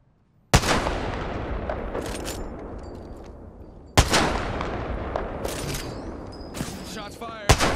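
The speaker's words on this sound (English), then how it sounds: "Shots fired. They're hitting me." Apex Legends gunfire: three sudden loud bursts, each followed by rapid automatic shots and booming reverberation that slowly fades, close and intense, with brief chatter mixed in.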